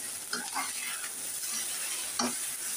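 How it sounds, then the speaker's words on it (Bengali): Garlic, onion and green chili sizzle steadily in a frying pan, with occasional stirring scrapes of a utensil, close and continuous, no voices. "রসুন পেঁয়াজের সাথে একটু ভেজে নেব। আমি এখানে কাঁচামরিচ দিয়ে দিলাম।"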